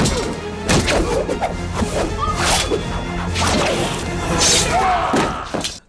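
Rapid katana slashes in Elden Ring, a run of sharp whooshing swipes and hard impact thwacks in quick succession, loud and close over a steady backdrop of game sound.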